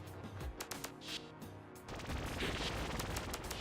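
Ranged enemies fire bullets in Lucah: Born of a Dream, a fairly quiet run of quick sharp shots in uneven bursts, ending in a denser, noisier stretch of fire.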